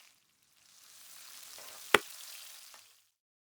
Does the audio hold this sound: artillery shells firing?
no